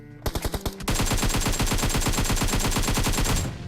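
In a PUBG firefight on Erangel, a few quick shots crack out, then a long, loud, close automatic burst fires in a rapid, steady rhythm for nearly three seconds.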